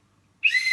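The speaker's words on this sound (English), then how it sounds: "once you hear the whistle blow," A whistle at a lakeside in Endau Rompin National Park gives one sharp, bright, sustained blast that starts abruptly after a moment of quiet and holds steady, close and loud.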